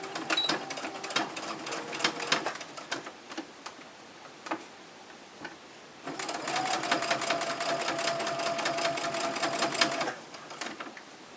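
A sewing machine stitches around the edge of a cloth pad with a PUL backer, giving short bursts of rapid mechanical ticking, then a longer steady run after a pause, close and clear.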